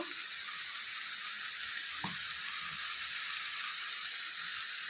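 Onion paste and turmeric powder fry in a pan for a chicken dish, a steady close hiss of sizzling throughout with one soft scrape of stirring near the middle.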